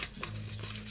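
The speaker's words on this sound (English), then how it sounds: "And we'll stir this by hand." Bubble gum scented soap mixture stirred by hand in a container, a soft close patter of scraping and swishing with a faint low hum underneath, no voices.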